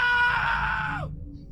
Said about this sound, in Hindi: नितिन की चीख से पूरा हॉस्टल गूंज गया।